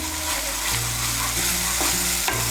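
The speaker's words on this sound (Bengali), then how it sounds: "টমেটো সসটাকে মিশিয়ে নেব।" Tomato sauce stirred into spices frying in a pan, a loud continuous sizzle with repeated scraping and clinking strokes of the spoon against the pan, close up and without talk.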